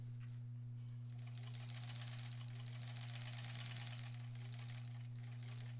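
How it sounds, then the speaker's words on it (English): A sewing machine stitches the outer border of a granny squares quilt, a rapid needle clatter over a steady motor hum, running quietly and evenly for several seconds without speech. "I am sewing in the same direction"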